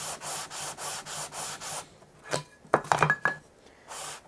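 A rosewood Telecaster neck is sanded with 180-grit paper in about seven even back-and-forth rubbing strokes, close by, followed by a few light knocks and scrapes.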